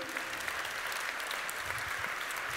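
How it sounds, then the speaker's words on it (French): An audience in a hall applauding a representative present in the room, a steady, even crowd clapping heard from a moderate distance for the whole stretch. "Ici présent, applaudissez-le."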